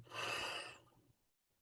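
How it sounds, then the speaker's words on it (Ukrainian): During a breathing exercise, a single slow, deep breath is drawn in close to the microphone. It is a soft, airy rush that fades out after about a second. "Знову вдих."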